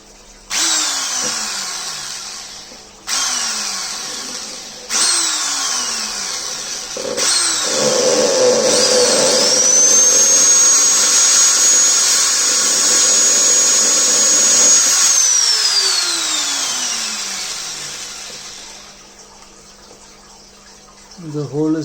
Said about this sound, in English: Okay, so let's drill some holes. This is a 3 mm bit, drilling bit.